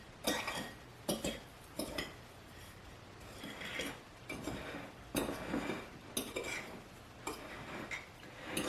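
A utensil clinks and scrapes against a bowl in quiet, irregular strokes while garlic powder, spices, cheese and breadcrumbs are stirred together for chicken parmesan.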